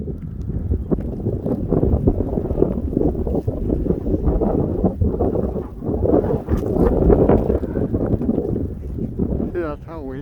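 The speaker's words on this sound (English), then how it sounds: "See, that's how windy it is." Strong blizzard wind roars steadily and loud against the microphone, buffeting in gusts throughout on an outdoor walk in a stormy, snowy -32 degree morning.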